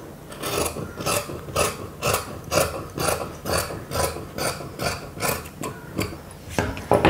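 Scissors cutting through blouse fabric, a steady rhythm of about a dozen rasping snips repeating roughly twice a second, close and clear with no talk.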